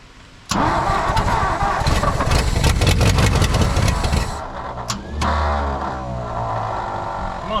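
A 1959 Ford F-600 straight truck with a Y-Block engine cranks hard for about four seconds of rapid, rhythmic churning. The engine then catches and settles into a lower, rougher running rumble, with a few clicks and knocks over it.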